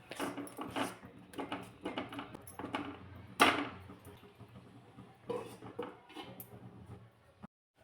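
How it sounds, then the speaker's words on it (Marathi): Gram flour batter cooking in a pan is stirred with repeated scraping and knocking strokes against the pan in an irregular rhythm, close and moderately loud, ending in silence. "हे पीठ शिजवून घ्यायचे."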